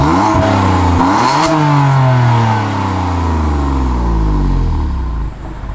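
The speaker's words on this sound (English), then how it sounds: "quick exhaust revs. This is with exhaust valves currently closed in comfort mode" A BMW F80 M3 with an equal-length midpipe, exhaust valves closed in comfort mode, gives a few quick, loud close-up revs, then the engine note sweeps smoothly back down toward idle.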